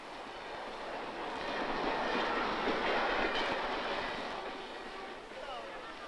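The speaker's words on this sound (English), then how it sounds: "The railway station, half an hour from Peking." A train rumbles steadily through a railway station half an hour from Peking, a broad wash of rolling noise swelling in the middle and fading, with a faint voice in the background.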